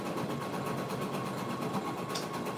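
An embroidery machine stitching a patch, a fast even mechanical whirr with a rapid repeating needle pulse, steady and moderately quiet throughout.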